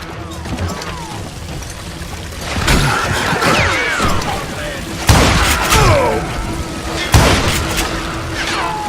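Gunfire in the Western shooter game Call of Juarez Gunslinger: loud booming shots at irregular intervals, each followed by ringing debris and ricochet tails, with voices and music mixed underneath.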